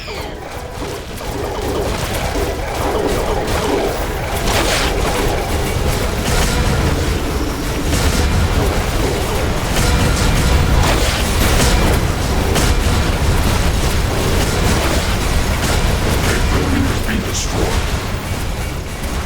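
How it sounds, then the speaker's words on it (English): Base buildings exploding under attack in the video game Riftbreaker, a dense, continuous wash of rumbling booms and crashes that runs loud and unbroken throughout. "One of our buildings was being destroyed."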